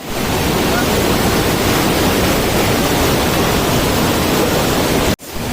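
Cold mountain stream rushing along the Kedarnath trail, a loud, steady broadband roar of water that holds without pause and drops out briefly near the end.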